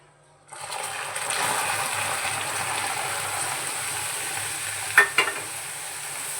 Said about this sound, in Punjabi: ਹੁਣ ਆਪਾਂ ਇੱਥੇ ਦੁੱਧ ਐਡ ਕਰ ਦਾਂਗੇ ਜੀ